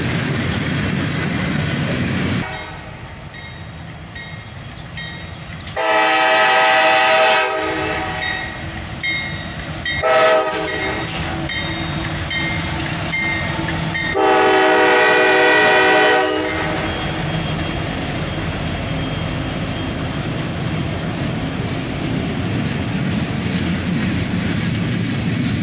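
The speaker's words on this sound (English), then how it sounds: "we have a CM44 AC leading a northbound" A northbound freight train led by a CM44AC locomotive on a mid-May morning sounds several loud horn blasts over the steady rolling clatter of wheels on rails.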